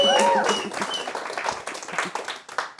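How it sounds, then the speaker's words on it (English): Audience applause at a comedy show for World Schizophrenia Day, a lively crowd clapping close and full at first, then thinning out into scattered claps. "Give yourselves a round of applause because this is something special."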